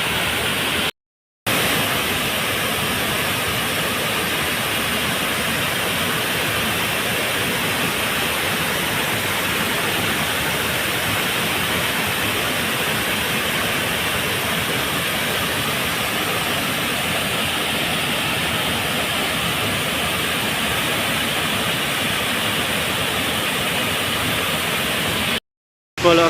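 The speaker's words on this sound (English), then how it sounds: "So nice view, Pinipisakan Falls, just only in front of me" Pinipisakan Falls, a waterfall in the Philippines, roars as a steady, dense wash of falling water, loud and unbroken throughout with no voices.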